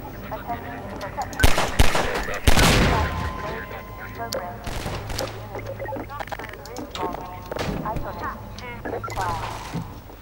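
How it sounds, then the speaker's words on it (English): Gunfire in the Half-Life 2 shooter, a few sharp shots and a heavier blast near the start, over continuous talking from a player. "Still getting shot."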